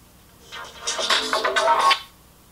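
Music plays from a cell phone's small speaker in a room, rising after a quiet start into a bright, tinny burst of about a second and a half before cutting off, with no voice over it.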